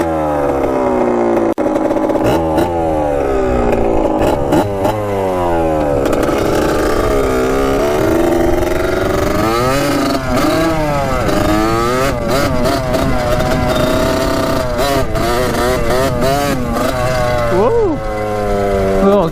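A cheap dirt bike engine, bought for $380, runs loudly and close by, revving up and down repeatedly with a buzzy, rising and falling note throughout.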